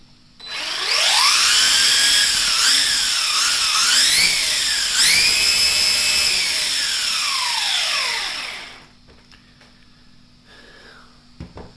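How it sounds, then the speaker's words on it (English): An FTX Zorro RC car with an upgraded brushless motor runs at quarter throttle, giving a loud, high electric whine that rises and dips in pitch for about seven seconds before cutting off, close up with no talk. "But yeah, let's give it quarter throttle."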